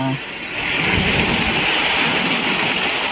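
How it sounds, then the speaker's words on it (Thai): Steady rain heard from inside a house with the window closed, a dense continuous hiss of falling water with low rumbling beneath, fairly loud and unbroken throughout. "เปิดหน้าต่างก็ได้ยินเสียงชัดขึ้นแล้วก็ได้สัมผัสกับละอองฝนด้วยนะคะ"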